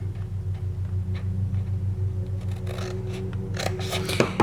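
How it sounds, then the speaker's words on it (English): Scissors snip repeatedly at fabric or thread for a wine bottle cover, small crisp cuts over a steady low machine hum, with louder, closer snips toward the end. "Cut. Cut. And cut."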